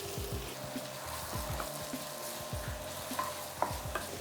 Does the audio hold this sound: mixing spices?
yes